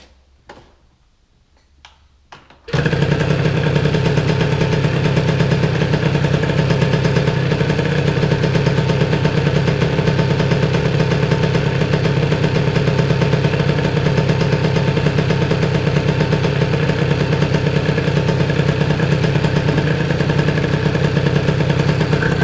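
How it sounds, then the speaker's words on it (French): After a few seconds of quiet clicks, a Derbi AM6 motorcycle engine starts and idles steadily during coolant bleeding after a radiator replacement, loud and close, with a rapid ticking rhythm throughout. "on va démarrer la moto"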